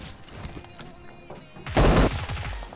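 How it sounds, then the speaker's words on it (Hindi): M4 rifle and VMP fire in a close-range fight in the mobile battle-royale game BGMI: quieter game sounds, then a short, loud burst of rapid shots near the end. "2-3 M4 के शॉट और VMP क्लोज रेंज के साथ इस बंदे को अपन निपटा देते हैं।"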